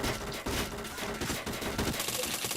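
Gunfire in a shooter video game, a continuous loud rattle of rapid shots with a few sharper cracks, close and dense throughout.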